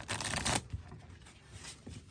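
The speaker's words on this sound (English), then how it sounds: "All right, so that's nice and shuffled up." A deck of Genesis: Battle of Champions trading cards being shuffled, a quick close riffling burst followed by softer scattered card rustles, quiet and with no talking.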